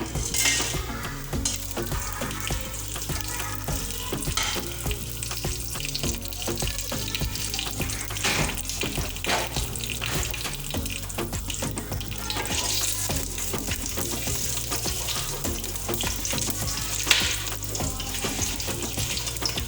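Whole spices (cinnamon, black pepper and cumin seeds) fry in a pot, giving a steady, even sizzle that runs the whole time with no talking.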